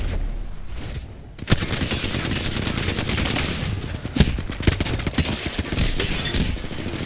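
Rapid, dense gunfire fills a battle royale video game match, sharp shots rattling nonstop with a few louder bursts standing out, loud and close throughout.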